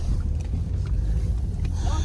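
Strong wind buffeting with a heavy low roar and gusty rumble, as if heard from inside or beside a moving vehicle.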